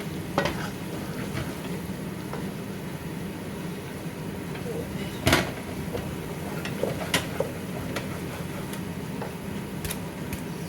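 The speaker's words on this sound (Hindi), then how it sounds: "उबला हुआ पानी डाल लेंगे।" Steady frying sizzle of mash dal with a spoon stirring and clinking in a pot, and a brief louder splash of boiled water poured in midway; a voice talks faintly underneath.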